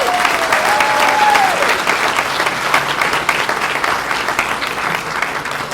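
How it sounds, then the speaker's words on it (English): A dinner crowd at the 2025 Wyoming Reagan Day Dinner applauds young people with dense, steady clapping that holds at full strength and then eases slightly. "let's give them another round of applause"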